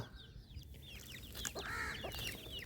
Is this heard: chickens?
yes